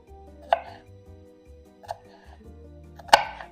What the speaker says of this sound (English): And you slice the shallots very, very thinly.